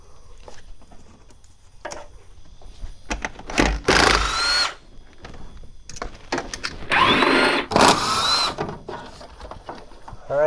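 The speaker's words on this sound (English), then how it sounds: "Now I've got just a few 10 millimeter bolts to remove the rest of the cowl panel." Power driver or ratchet spinning out 10 mm bolts from a Nissan 350Z cowl panel, with two loud bursts of tool whirring and scattered clicks and handling noises between them, no talk.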